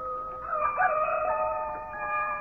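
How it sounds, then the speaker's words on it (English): A rooster crows in an old-time radio mystery drama, one long drawn-out call heard alone at a moderate distance over a quiet, faintly hissing background. "beckoned by a rooster somewhere, doing his thing"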